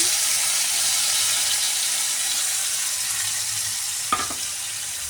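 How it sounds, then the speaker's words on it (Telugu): Ginger garlic paste frying in a pan, a loud, steady close sizzle with one brief stir near the end. "కొంచెం జింజర్ గార్లిక్ వేస్తాము. కొంచెం బాగా ఫ్రై చేస్తాం అన్నమాట, పచ్చిపోయినంత"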